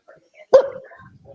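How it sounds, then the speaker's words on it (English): A dog lets out one sharp, loud bark nearby during a relaxed indoor gathering to watch the NBA draft, with quiet murmurs around it. "I don't think your dog likes Isaiah."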